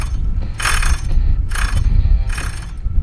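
Worn wheel bearing hub on a 2006 Nissan Sentra giving a repeated grinding, ratcheting rumble with bright scraping bursts roughly every second, close and loud, no talk.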